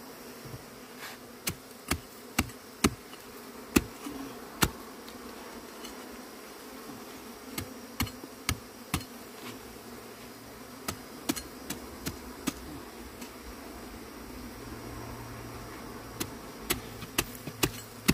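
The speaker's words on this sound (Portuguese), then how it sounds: "porque é muita abelha" Bees from kept hives swarm around, a steady low buzzing hum under the handling, punctuated by sharp clicking taps at irregular intervals.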